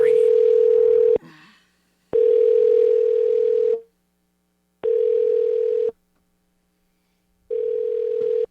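Telephone ringback tone repeating in long steady beeps separated by silent gaps, clear and close, no talking.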